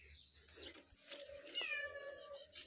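A tomcat lets out a clear, drawn-out meow close by, preceded by softer mewing and quiet background noise, with no talk.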